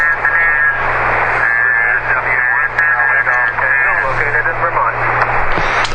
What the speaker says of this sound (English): I heard a station in Vermont there.